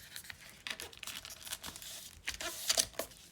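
Paper covering for a desk set being folded down and over, a series of soft crinkling and tearing-like rustles in short bursts, close and fairly quiet, with no voices.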